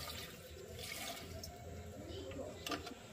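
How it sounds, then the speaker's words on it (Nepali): Water poured into a pressure cooker on a lit gas stove to boil drumsticks for a curry gives a faint, steady splashing fill, with a soft voice heard alongside. "अब पानी राख्नुपर्छ उसिन्नुको लागि।"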